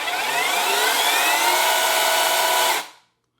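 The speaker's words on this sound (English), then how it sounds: "I'm going to go ahead right now and operate this thing so you can see kind of the speed that it operates at." Dehan DCS-0692 16-inch 21V battery electric chainsaw runs at a steady high-speed whine for under three seconds, then cuts off abruptly and falls silent.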